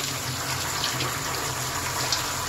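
Steady running water pours in a continuous gushing hiss as a Malinois dog is showered after a lake swim, close and loud with no voices over it.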